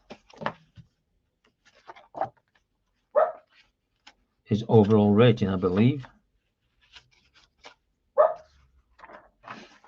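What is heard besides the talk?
dog barking in the background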